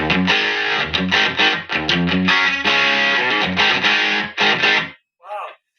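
An electric guitar through a Vox AC30-style amp at full gain plays heavily distorted, overdriven chords in loud choppy bursts, then stops abruptly, followed by a short snippet of something else.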